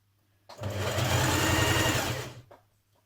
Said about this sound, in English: And you're just going to stitch along there